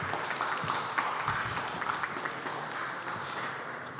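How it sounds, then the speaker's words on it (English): Audience applause at a digital summit conference welcoming a guest on stage, a steady even wash of clapping throughout at moderate distance, fairly quiet. "Please give a round of applause and welcome the gentleman on stage."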